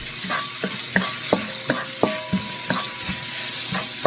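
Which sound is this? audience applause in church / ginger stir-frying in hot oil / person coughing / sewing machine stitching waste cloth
ginger stir-frying in hot oil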